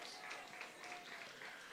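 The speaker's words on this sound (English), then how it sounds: "Give yourselves a round of applause." A crowd at the groundbreaking ceremony for the Laborie Market Project in St. Lucia applauds faintly and from a distance, with steady, even clapping throughout.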